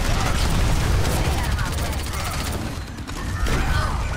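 Overwatch gunfire in a frantic firefight, dense rapid shots blending with booming effects and game noise throughout, loud and continuous under overlapping voices.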